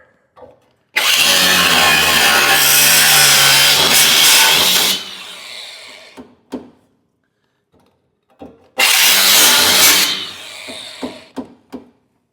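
A 5.5-inch cutting disc on a power tool slices through metal, likely rebar, while removing old spring perches from a 1972 AMC Javelin, in two loud sustained bursts of grinding screech separated by a pause, each trailing off with clicks and clatter.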